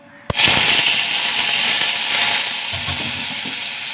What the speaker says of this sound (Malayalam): ഒരു 5-6 ചെറിയ ഉള്ളി ഇട്ടാ.